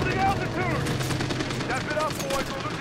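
Gunfire in the World War II shooter game Call of Duty WW2: dense, continuous bursts of rifle and machine-gun fire with rattling shots, loud and steady throughout, with voices talking over it.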